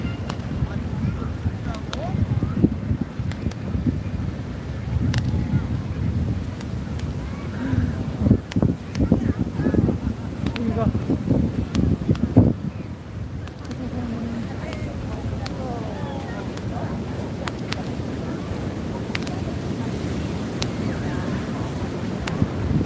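Seaside wind at Naksan Beach at night with high waves, a continuous rushing blow and mic buffeting over a low surf wash, with people talking nearby.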